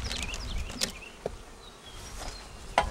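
Honey bees swarm around a couple of freshly opened hives late in the season, when little nectar is about; a dense, steady buzzing hum fills the scene, broken by a few sharp clicks of hive handling.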